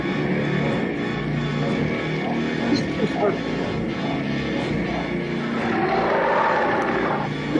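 A helicopter from the 1979 horror film Prophecy drones with a continuous rotor and engine roar throughout, with people talking over it.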